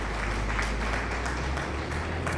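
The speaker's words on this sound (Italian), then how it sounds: "facciamo un grande applauso al nostro Gaspari." Applause and clapping from a crowd in the Farming Simulator 22 video game, a steady dense wash of hand claps running continuously throughout at moderate level, with no one talking over it.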